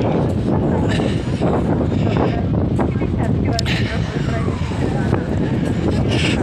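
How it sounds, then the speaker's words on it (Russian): Strong wind buffets a phone microphone held near the mouth outdoors in Moscow, a loud, continuous broadband roar with gusty swells across the whole span, and no clear talking breaks through it. "Приходится телефон держать совсем близко ко рту, потому что сильный ветер тут вдруг появился."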